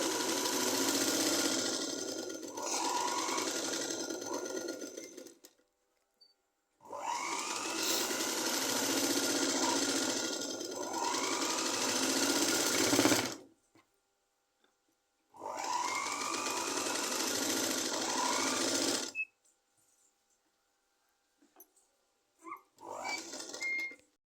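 A sewing machine stitches the neck of a blouse on straight fabric, running in three long, steady bursts separated by pauses of silence, then a few short stutters at the end. The sound is close and clear, with no talking.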